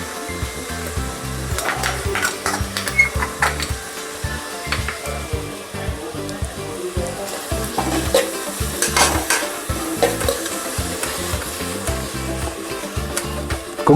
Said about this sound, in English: Cook the ginger garlic paste until raw smell goes.